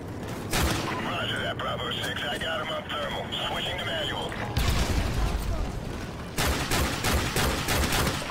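Mounted LMG machine-gun fire in the Call of Duty: Modern Warfare Remastered campaign, heavy repeated bursts and booms running through the clip beneath radio chatter and a talking voice.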